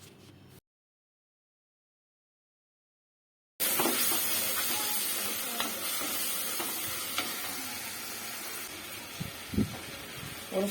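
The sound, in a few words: tomatoes sautéing with ginger garlic paste and salt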